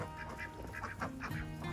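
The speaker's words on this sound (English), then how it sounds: "the second black runner duck, the one that's coming towards us right now" A black runner duck close by gives a few soft nasal quacks and honking calls in a farmyard, with faint background noise.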